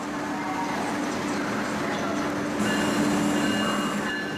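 An Amtrak Acela Express high-speed train rolls along steadily at over 150 miles per hour, with a constant rumble and faint wheel noise, heard from inside a business class carriage.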